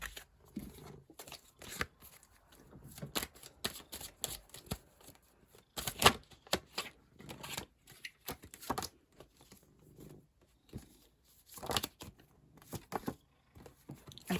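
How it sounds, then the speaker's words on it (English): Tarot cards shuffled and drawn from a deck in a quiet room, giving soft irregular riffles, slaps and papery crinkles with a few sharper snaps, close and fairly quiet with no talking. "Just gonna pull a couple more cards."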